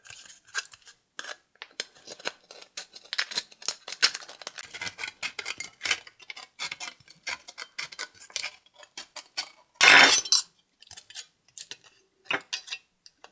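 Victorinox Swiss Army knife scissors snip through a strip of tin can metal in a run of sharp, irregular clicks and cuts, with one louder metallic crunch near the end, close and alone.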